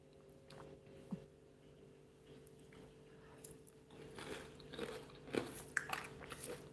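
Quiet, close bites and chewing on a crunchy fried spring roll, with scattered crisp crunches growing denser toward the end over a faint hum, no talking.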